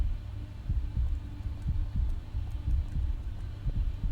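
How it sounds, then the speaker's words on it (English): Loud, steady heartbeat in a horror video game, thumping in a regular double-beat rhythm over a low droning hum, with no talking over it. "My heartbeat is loud as sin."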